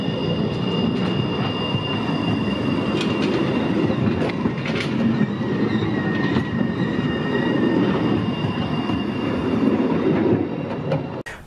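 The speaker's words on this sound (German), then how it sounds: "Für die Straßenbahnen geht es dann nach etwas Wendezeit wieder zurück in Innenstadt" Erfurt city tram rolling along its rails, close and loud, with steady running rumble, clicking wheels over rail joints and high wheel squeal throughout, fading slightly at the very end.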